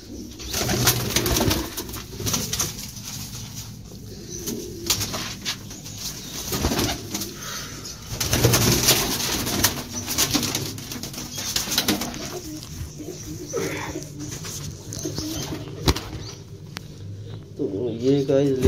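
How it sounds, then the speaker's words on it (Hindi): Large Tukli pigeons coo in a low, repeated rolling burble up close, with bursts of wing flapping and shuffling, while someone talks over them throughout. "पर देखें गाइस माशाल्लाह काफ़ी खूबसूरत कबूतर है और काफ़ी बड़ा कबूतर है।"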